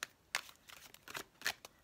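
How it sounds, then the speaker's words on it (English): Oracle card deck, the Wisdom of the Hidden Realms, shuffled by hand in a few quick, crisp riffling bursts with short pauses between, close and fairly quiet. "So I'll just shuffle this oracle deck."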